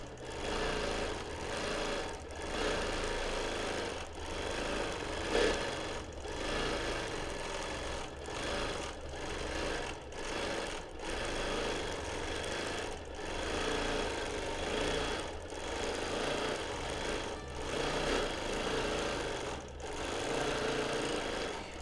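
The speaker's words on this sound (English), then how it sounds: "So this time across, I'm not quilting as far forward as I could possibly" Sewing machine quilting a baby quilt with minky backing, running in long steady bursts of motor whir broken by brief pauses, close and fairly loud, with no voices.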